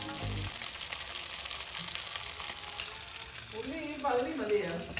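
Pre-boiled chicken fries in a pan for mandi with a steady close hiss and sizzle, plus a brief clatter near the start and a louder burst of sizzle toward the end.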